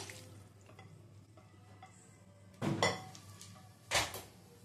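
Chickpeas with their water tipped into a pan of cooked spices, two short splashing, sizzling bursts over a quiet steady background hum, fairly faint and close.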